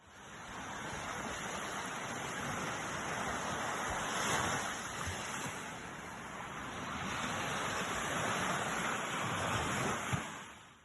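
Waves of the Baltic Sea washing ashore in a steady, broad roar, swelling and easing gently with some wind noise, heard alone without voices.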